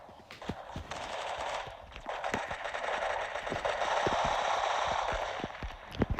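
Video game gunfight with rapid, steady bursts of automatic gunfire and sharp individual shots over a constant hiss, loud and close throughout.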